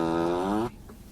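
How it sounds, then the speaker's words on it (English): A Tesla Model Y 2022 plays a whoopee cushion fart effect, a single buzzy, rasping blurt lasting under a second before stopping abruptly into quiet. "there's even a whoopee cushion emissions screen. Yes, really, with different styles of fart delivery."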